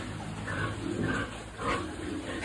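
Pigs at feeding time on a village farm in the late afternoon, giving repeated grunts and squeals at close range over a steady background hiss.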